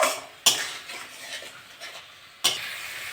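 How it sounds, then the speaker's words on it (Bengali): Spice masala with a little water being stirred in a metal pan, with two sharp clangs of a spoon against the pan and soft scraping and low sizzling between them, no voices. "মশলাটা এবার ভালো করে একটু কষে নেব।"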